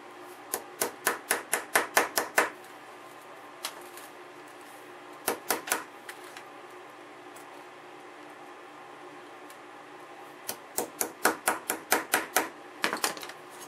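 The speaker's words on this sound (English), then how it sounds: "I'm just using a pair of pliers for a hammer." Rapid bursts of sharp metallic taps from pliers used as a hammer on a Predicta Tandem television part, in quick rhythmic runs, pausing between groups, with a few isolated knocks; close and clear with no talking.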